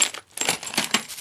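Metal discs and weights for a Glidecam XR-2000 handheld stabilizer clink and jangle together during unboxing, a few bright close metallic taps in quick succession.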